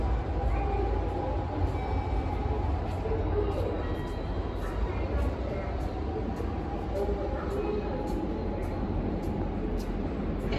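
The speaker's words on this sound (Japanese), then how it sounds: "The local train bound for Asakusa is arriving at track 1" A Tokyo Metro Ginza Line train rumbles steadily into enclosed Shibuya Station, a constant low roar of wheels and motor with a faint announcement voice underneath.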